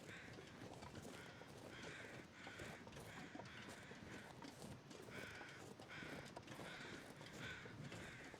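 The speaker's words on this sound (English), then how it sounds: "I'm hearing crows. I'm not seeing them." Crows caw in the video game The Long Dark. Rhythmic repeated caws come at a steady pace over a constant windy hiss, distant and faint.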